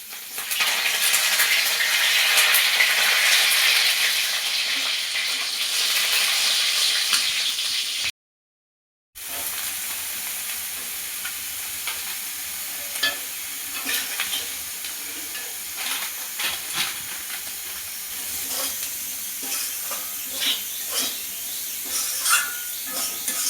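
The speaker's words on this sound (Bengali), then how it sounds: "আর মা রান্না করছে এখানে হলো ঝাল সুজি" Spicy semolina (jhal suji) hissing and sizzling in a pan, a loud steady fry that briefly cuts out, then softer crackling with scattered scraping stirs over a long stretch, no talk.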